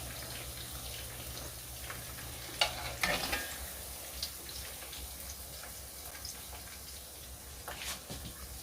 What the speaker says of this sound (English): They just sit right there in that skillet frying.